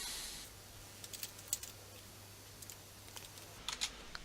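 Faint computer keyboard typing while entering code, a sparse run of light clicks and taps with short pauses, quiet against a low steady background hum.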